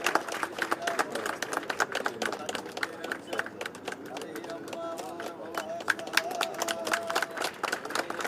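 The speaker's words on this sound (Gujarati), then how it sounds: "જોરદાર તાળીઓ થકી એના ભાગીદાર થઈએ" A crowd claps at an official ceremony for a minister's plaque unveiling at a power company office in Vapi. The applause is dense and sustained, with a voice over a loudspeaker running underneath.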